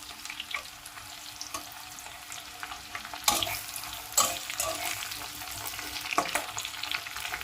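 Potato pieces fry over high flame in hot oil with bay leaf, dried red chillies, whole cumin, cardamom, cloves and cinnamon, a steady close sizzle broken by several louder bursts as they are stirred, with no talking.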